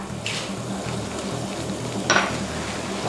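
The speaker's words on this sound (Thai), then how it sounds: "เคี่ยวจนกระทั่งเดือดนะคะ" Orange sauce seasoned with soy sauce and pepper simmering in a pan, a steady low bubbling sizzle with a couple of brief brighter clinks or splashes, close and alone without talk.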